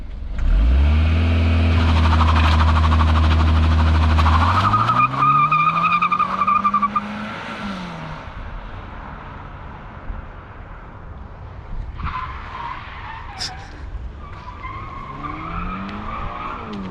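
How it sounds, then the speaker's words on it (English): A 2022 Subaru BRZ skids through an e-brake slide on dirt. Its engine roars loudly and close, then pitch falls as the tires scrub and skid across the loose surface, followed by quieter rolling and engine tones. "I did that e-brake slide looking out the window"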